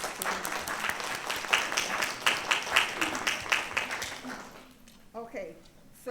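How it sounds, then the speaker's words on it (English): An audience at a city beautification awards ceremony claps in a sustained round of applause that swells, then tapers off, with a voice heard as it fades. "So let's everybody give themselves applause for that."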